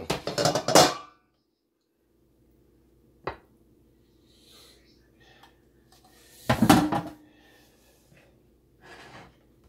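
A metal cake pan clatters and clanks while a pineapple upside-down cake is flipped, with a loud scrape at the start, a sharp knock, then another burst of rattling amid quiet breathing and handling noises.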